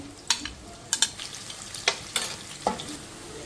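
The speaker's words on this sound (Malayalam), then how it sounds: "ഇതിനകത്തൊക്കെ ഇനി കുറച്ച് വെളിച്ചെണ്ണയും കൂടി ഒഴിച്ചിട്ട് നമ്മൾ സവാള ഇതിനകത്തിട്ട് മൂപ്പിച്ച് കോരിയെടുക്കാനാണ് നോക്കുന്നത്" Sliced onions fry in coconut oil for a vegetable pulao, sizzling steadily while a spoon scrapes and stirs them in several sharp, close strokes.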